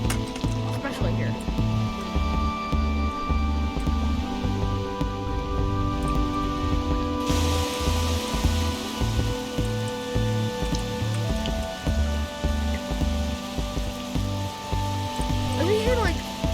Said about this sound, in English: I know it rains here right now.